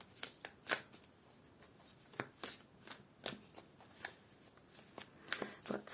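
A deck of cards is shuffled for a tarot card reading, soft riffling and tapping bursts repeating irregularly at close range, with no talking.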